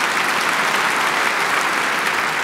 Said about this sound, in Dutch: Dus ook daarvoor een applaus naar Clint Zilver.